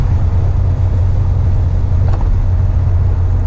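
A Hyundai Veloster N running a SXTH Element ECU tune cruises gently while warming up, its engine a steady low drone and hum of road noise inside the cabin.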